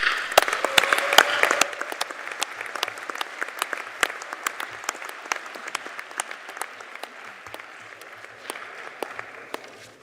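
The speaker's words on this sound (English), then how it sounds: "a round of applause from you to them" An audience at a University of South Wales graduation ceremony applauds, dense clapping that holds steady and then slowly thins toward the end.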